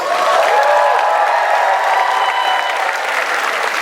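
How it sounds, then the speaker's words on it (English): A large convention crowd at a Hawaii comic con applauds itself, a full, even roar of clapping with a few faint cheers, loud and unbroken with no speech over it. "So give yourselves a round of applause."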